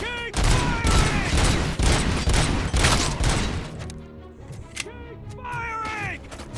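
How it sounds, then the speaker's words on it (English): Dense bursts of rapid automatic gunfire rattle during a bank robbery shootout in the game RoboCop: Rogue City, the loud volley thinning into scattered shots while shouted voices and radio chatter carry over the fight. "Suspects are resisting! Keep firing!"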